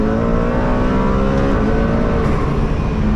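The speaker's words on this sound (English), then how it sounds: "Hit the gas." A McLaren Speedtail accelerating hard, its engine roar loud, steady and close throughout with a rising, dense drone.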